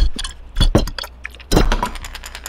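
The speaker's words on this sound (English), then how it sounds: "I made that chamber up front thicker so those bearings can rattle in the front" Metal ball bearings clatter inside the weight-transfer chamber of a handmade mahogany mouse wakebait, loud bursts of clinking and rattling in two shaken bouts, close up with no talk.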